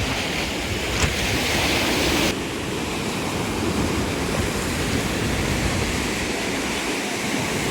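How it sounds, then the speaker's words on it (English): Lake Superior surf pounds a rock formation at Black Rocks, a loud, dense roar of crashing water mixed with wind buffeting the microphone, continuous throughout. "from the waves pounding at it."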